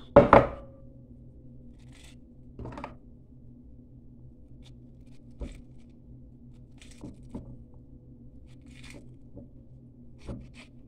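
A knife cuts through a pomegranate with one sharp, close chop, followed by scattered faint taps and knocks on a cutting board as the seeds are worked out; quiet room, no talking.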